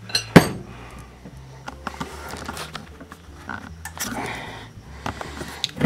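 A pot of red lentil soup, simmered for half an hour, is moved off the stove with sharp metal clanks and clinks of pot and utensils, a loud knock near the start followed by scattered scraping and rattling.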